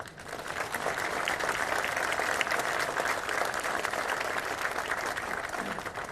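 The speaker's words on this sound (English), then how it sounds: "how about an applause break for them?" An audience at a ceremonial groundbreaking for a Milwaukee high-rise applauds in a dense, steady wash of clapping that lasts several seconds and fades slightly at the end.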